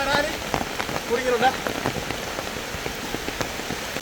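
Rain patters steadily on surfaces around a rural fishing spot, dense close drops with sharper individual taps throughout, while people talk faintly in the background.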